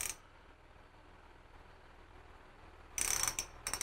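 Koozer bicycle hub engaging, a burst of sharp ratchet clicks arriving near the end after a quiet stretch of low background hiss, close and fairly loud.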